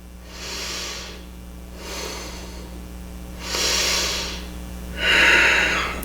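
Slow, steady breathing during a yoga stretch for hangovers: four separate airy inhales and exhales, close to the microphone, with the last two breaths louder and no talking.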